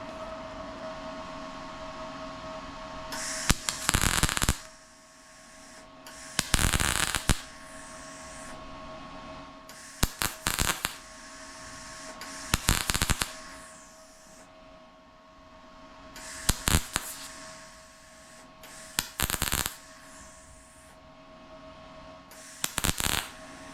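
Short bursts of MIG welding on a steel fender patch panel of a Chevelle restomod, repeated in evenly spaced crackling buzzes of a second or two each, separated by quieter pauses.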